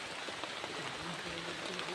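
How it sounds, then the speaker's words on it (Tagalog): Heavy rain pours steadily outdoors in a thick, even hiss with no pauses, heard close and fairly loud, with no speech over it. "Lakas ng ulan dito mga idol."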